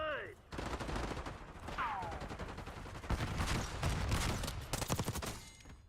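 Rapid automatic gunfire in the video game Black Ops 6, dense bursts of shots with short pauses, fairly loud, with faint game voices in the mix.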